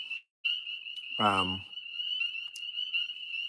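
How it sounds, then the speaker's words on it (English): Frogs croak steadily in the background with a high, continuous trill, while someone speaks briefly over them. "That's why the frogs are so loud. They're in the pond."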